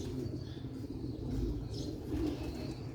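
Soft, low coos from Sialkoti black-faced pigeons repeat in gentle murmuring bursts, faint against a hushed background.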